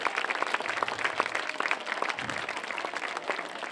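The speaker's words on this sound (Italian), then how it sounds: "ma un applauso, non facciamo i campanilismi" Dense, steady applause fills the space as an audience claps throughout at a clown contest event in Falerna, with no voices over it.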